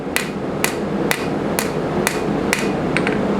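A hammer strikes a hand-forged steel pocket pry bar to bend it, six sharp ringing metallic blows at an even, brisk rhythm, close and loud with no talk.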